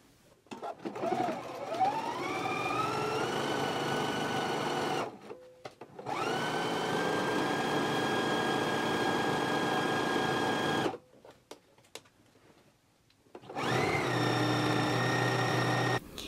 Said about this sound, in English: I'm going to begin stitching at the hem of the pants and work my way up.